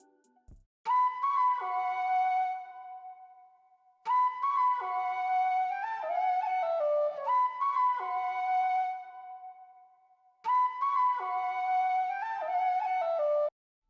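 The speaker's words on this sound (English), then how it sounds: "It's ethnic flute phrases right here." An unprocessed ethnic flute sample from Orchestral Essentials plays a breathy melodic phrase three times, each repeat starting after a short gap, clear and alone.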